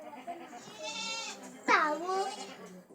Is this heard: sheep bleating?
yes